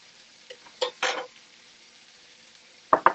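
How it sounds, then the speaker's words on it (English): Onions sautéing in a pan, a quiet sizzle broken by a few bursts of stirring and utensil scrapes near the start and again at the end, no voices. "go ahead and put the onions in, in there"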